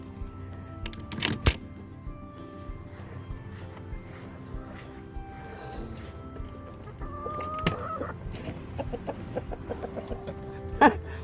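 Chickens in a garden coop, scattered clucks and fowl calls at moderate distance with quiet gaps between them and a louder burst near the end.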